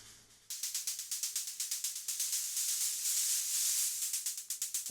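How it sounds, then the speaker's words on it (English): White noise shaker in an electronic dance track, its short rhythmic hiss bursts pulsing steadily and gradually stretching and swelling into a sustained riser, loud and alone. "to almost turn it from a shaker into a riser"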